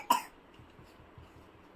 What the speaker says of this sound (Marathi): खोकला येतो ना तुला।